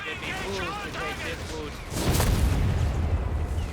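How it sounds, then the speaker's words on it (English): US mortar shells with time fuses burst in a Company of Heroes 3 battle, a deep boom followed by rumbling explosions under a commentator's voice. "US mortar making use of its time fuse there, it looked like."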